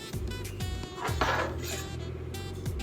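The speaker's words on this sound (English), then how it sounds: "And then we're just going to whisk those together." Dry ingredients of bread flour, sugar, instant yeast and powdered milk being whisked in a bowl, with light clinks and scraping of the whisk against the bowl, fairly close and steady with no talking.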